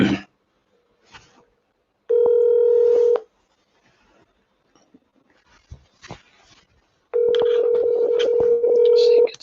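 A telephone dials out to call someone, giving two long bursts of steady dialing tones separated by quieter stretches of faint sounds, with no speech.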